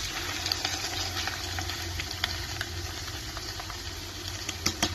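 Egg noodles with chili sauce are stirred in a hot pan, giving a steady close sizzle and frying hiss with scattered scraping taps from the utensil.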